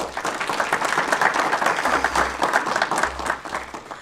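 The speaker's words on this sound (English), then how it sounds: "Please give Ms. Harrington a round of applause." Sustained applause from an audience at a county board of education meeting, steady dense clapping filling the room for several seconds with no speech over it.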